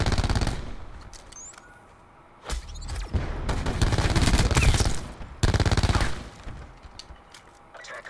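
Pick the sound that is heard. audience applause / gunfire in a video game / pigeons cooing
gunfire in a video game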